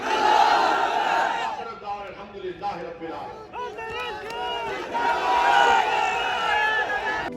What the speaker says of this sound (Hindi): तो मेरे साथ नारा लगाइए, नारे तकबीर